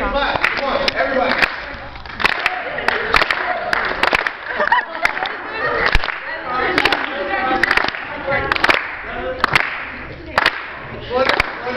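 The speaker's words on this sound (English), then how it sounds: "I need a clap. Come on, everybody." A group of people clapping along in rhythm, sharp repeated handclaps at a steady pulse mixed with lively voices and rapping, loud and close.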